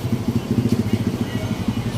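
Motorcycle engines idle and putter nearby with a steady low pulsing throb during house demolition near the PUP Santa Mesa train station, with talk over them.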